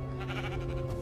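A sheep in Minecraft Story Mode gives a single close, sustained bleat with no talk over it.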